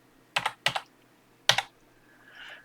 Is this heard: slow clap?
no